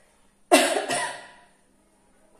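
A person coughs once in a short, close, harsh burst with a second quieter hack right after, then silence; no talking.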